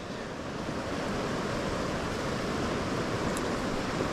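A flooded river tributary running five or six feet above normal rushes steadily, a dense unbroken roar of storm water close by with no voices.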